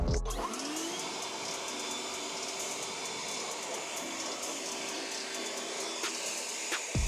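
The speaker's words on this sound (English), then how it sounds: "Now it's time to dry it off using our eco blower." An eco blower dries a freshly washed car with a loud, continuous high-pitched rushing whine, starting abruptly and holding steady and close the whole time, with small clicks and rattles near the end.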